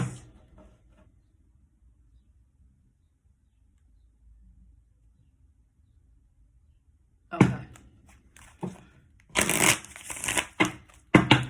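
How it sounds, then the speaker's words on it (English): Tarot cards are shuffled after a long near-silent pause, with crisp riffling and slapping bursts coming close and loud in quick irregular clusters, and no voices. "They said end this now with a few cards of advice."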